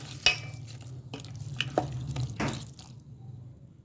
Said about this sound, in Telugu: ఒకసారి మిక్స్ చేద్దాం